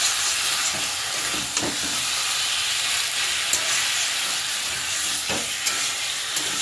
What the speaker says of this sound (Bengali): এখন আমি মাংসটাকে আস্তে আস্তে করে কষাবো